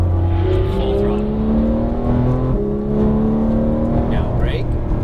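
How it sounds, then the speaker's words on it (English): Porsche 911 GT3 of the 991 generation at full throttle, a loud rising engine howl that climbs in pitch, drops at a gear change and climbs again, heard from close inside the car. "Full throttle."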